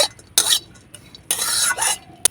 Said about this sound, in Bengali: এগুলো আমি সাদা তেলের মধ্যে ভেজে নেব